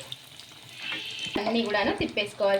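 Semolina breakfast pieces fry in oil, a bright continuous sizzle with bubbling crackle that grows louder and busier in the second half, with faint voice-like tones mixed in.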